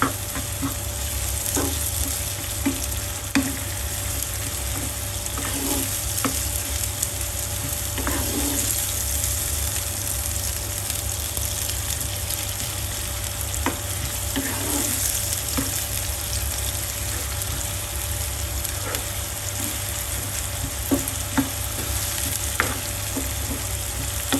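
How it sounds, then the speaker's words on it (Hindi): Egg masala fries steadily in a pan as a spoon stirs it, a continuous close sizzle with occasional soft scrapes and clicks of the spoon against the metal, no talking throughout. "चम्मच चलाते रहें ताकि ये जले ना।"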